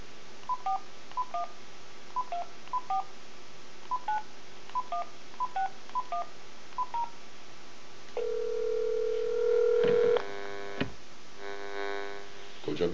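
A telephone keypad dials a number on a Persian TV call-in show: about a dozen short, clean DTMF beeps in a steady rhythm, then a sustained dial or ringing tone and clattery line noise, with no talk.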